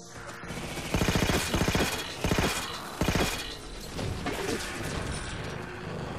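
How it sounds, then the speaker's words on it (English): Rapid bursts of automatic fire from a sentry gun turret in Halo 4, several loud close volleys with short gaps and mechanical clatter between them, no talking. "Let's try being more effective in my use of the turret."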